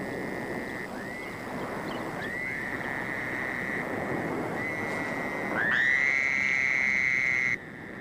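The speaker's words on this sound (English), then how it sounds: "The toads fill the darkness with the sounds of courtship." Toads calling at night from a shallow spring pool behind a sandbar, long sustained trills overlapping in a dense chorus, one louder and nearer trill rising near the end over a soft background hum.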